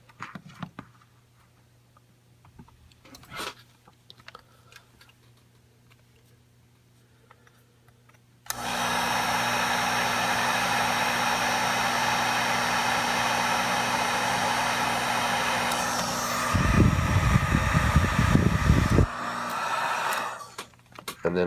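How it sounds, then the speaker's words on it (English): A heat gun blowing to shrink heat shrink tubing on drone motor wires during a QAV250 quadcopter build, starting abruptly as a loud, steady rushing hiss close up, with a rumbling change in tone near the end before it cuts off. "hit it with a little bit of heat from the heat gun"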